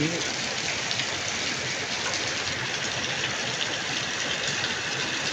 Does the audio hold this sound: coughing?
no